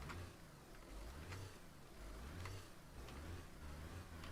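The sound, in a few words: Volkswagen Beetle engine revving in video game DayZ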